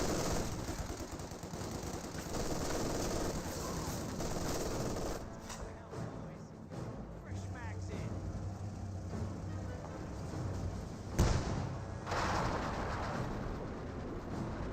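MG42 machine gun fire in the video game Company of Heroes 2, bursts of automatic gunfire mixed with explosions and battle noise in a dense, continuous in-game soundscape, with a commentator's voice faintly present.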